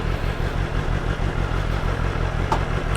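A BMW M1000XR motorcycle idles while being parked, its steady low engine rumble holding close and even throughout with a faint clattery edge and no talk.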